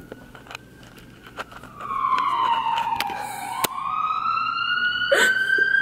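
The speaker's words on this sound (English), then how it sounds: "We're gonna sound off this alarm." An alarm sounds in a hospital clinic room, a wailing siren-like tone that rises and falls, fairly loud, with a few clicks and knocks around it.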